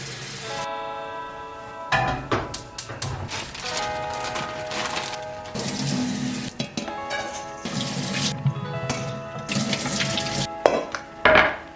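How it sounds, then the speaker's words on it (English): Running water splashes into a large pot at a kitchen sink, with metal clanks and clatter from dishes, loud and close, no talking. "bring a large pot of salted water to boil, wash and dry produce"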